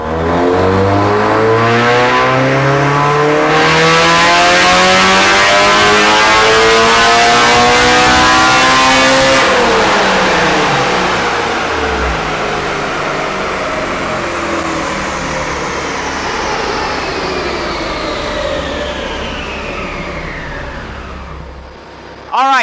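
A K24A-swapped Mazda Miata on a dyno pull, loud engine revving steadily upward with rising harmonics, then easing off as the revs sweep back down over roughly twenty seconds with no talk.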